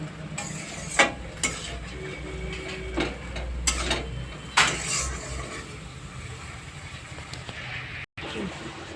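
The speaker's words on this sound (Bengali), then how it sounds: "দিয়ে মশলাটা একটু কষিয়ে নেব" Spice paste with a splash of water is stirred and sautéed in a pan for fig (dumur) curry, with scattered spatula scrapes and clinks over a faint cooking hiss, fairly quiet.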